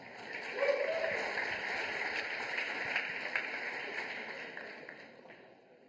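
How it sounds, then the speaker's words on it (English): At a tech conference opening ceremony, the crowd gives a round of welcoming applause as a speaker named Nick comes on, a soft, distant wash of clapping under a steady hum. "Please give Nick a big round of applause"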